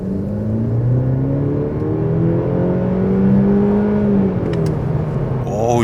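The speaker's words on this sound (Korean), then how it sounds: "지금 엄청 낮은 속도에서 풀악셀 딱 해보면" A 2025 Mercedes-Benz E300 AMG Line W214 with a four-cylinder engine accelerates at full throttle from low speed, its engine note rising steadily in pitch through the gears, loud and close, heard from inside with no talk.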